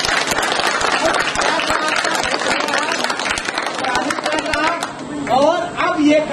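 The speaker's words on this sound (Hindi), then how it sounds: "उसके लिए जोरदार तालियां।" Audience applause at a world peace day march event: dense, steady clapping from a crowd fills the scene, with voices rising over it near the end.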